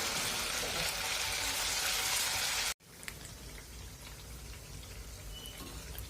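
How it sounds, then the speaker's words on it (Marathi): Sabudana vadas fry in hot oil with a dense, close bubbling hiss that cuts off abruptly for a moment, then resumes as a softer, steady crackle. "वडे तळताना हे कमी गॅसवर तळायचे आहे।"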